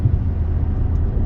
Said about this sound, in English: Can you hear the exhaust?